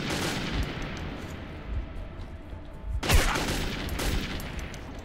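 Gunfire in the shooter game Metro 2033: a rapid burst of shots early on, then a loud, dense volley around the midpoint, with echoing cracks and booms and no voices.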